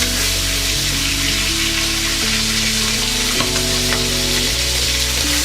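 Duck breast (magret) sears in hot rendered fat in a pan, a steady loud sizzle and crackle running throughout with no talking.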